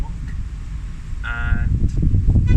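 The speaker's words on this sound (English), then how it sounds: "Where's this wind coming from, by the way?" Outdoor wind buffets the microphone as a steady low rumble across the whole stretch, with a short tonal car horn sounding around the middle and someone talking over it.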